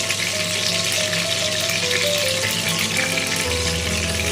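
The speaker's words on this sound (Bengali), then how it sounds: "বাকি তেলটা আর দিয়ে নিচ্ছি সামান্য ঘি" Oil and a little ghee sizzle loudly in a pan for cabbage rezala, a steady, close, dense frying hiss with no voices.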